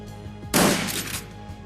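Turrets fire in the video game Shadowrun: Dragonfall, a sudden loud burst of rapid gunfire that rattles for about half a second and then fades over a low electronic music bed.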